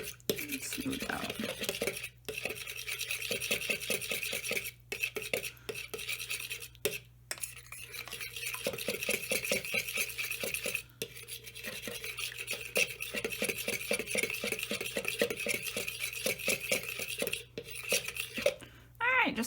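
A spoon stirs a spicy dipping sauce in a small dish, with rapid repeated scraping and clinking against the dish, pausing briefly now and then, close and fairly loud.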